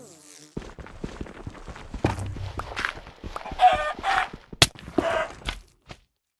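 A chicken in the Minecraft video game clucks in short repeated bursts among quick footstep clicks and other game effects, fairly close and clear.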